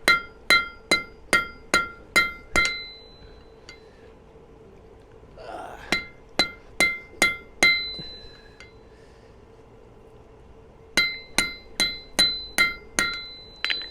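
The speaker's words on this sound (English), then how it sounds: "hammer it into itself" Sharp ringing hammer blows strike hot metal on an anvil during forge welding, in quick rhythmic bursts of six or seven, separated by brief quiet pauses.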